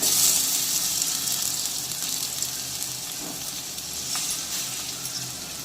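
Tomatoes frying in a pan with ginger and garlic for a pasta sauce, a steady broad sizzle and hiss held at an even level throughout with no voices.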